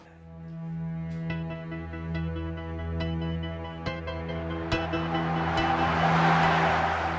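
A truck passes on the RN20 national road, its engine drone rising from distant to close and loud with a whooshing rush of tires and wind building toward the end, with no talk.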